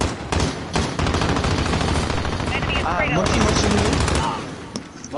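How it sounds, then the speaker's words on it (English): Rapid gunfire from a shooting video game on PS4, with bursts of automatic fire running nearly the whole clip and a player talking over it. "Who's shooting over there, bro?"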